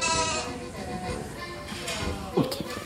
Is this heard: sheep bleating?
yes